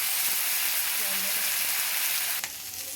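Potatoes and tomatoes sauté in a wok, giving a loud, close, continuous sizzle for a few seconds, ending in a brief clatter of stirring.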